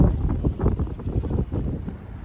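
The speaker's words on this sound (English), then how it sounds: "And it's a little bit windy as well." Blustery wind at Mumbles, Swansea buffets the microphone with low, rumbling gusts that rise and fall over a couple of seconds.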